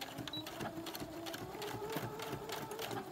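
A sewing machine runs steadily, its rapid mechanical stitching rattle continuous and close, with faint background noise.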